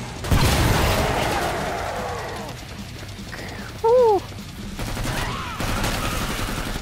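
Bursts of gunfire against monsters in Killing Floor 2, a rattling volley of shots mixed with mechanical clanks and creature cries, loud and close, with a short sharp tone partway through.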